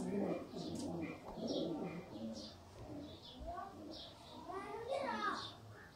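Sialkoti pigeons, a cross of chhat-wala and ali-wala birds, coo in soft repeated bursts close by, mixed with other bird calls and ongoing talk from people nearby.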